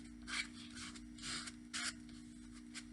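Paint being scraped and dragged off a surface during an art session, a few short faint rasping strokes separated by pauses, quiet and close.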